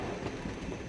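A cartoon freight train runs steadily along its rails, a continuous mid-level rumbling roll with no voices over it.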